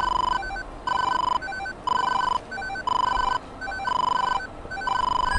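Repeating electronic warning alarm in a fighter jet cockpit (aircraft limitation warning, Mirage 2000 in DCS World), steady beeping tones pulsing in a regular on-off rhythm, loud and alone without talk.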